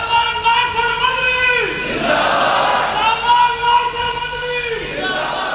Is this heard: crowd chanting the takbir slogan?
yes